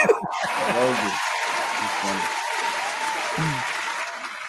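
Applause breaks out on a mixshow, steady clapping running beneath laughter and chuckling voices from people in the room.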